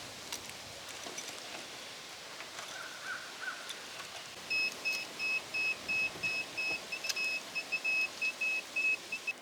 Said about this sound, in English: you just have to keep adjusting it till it stops beeping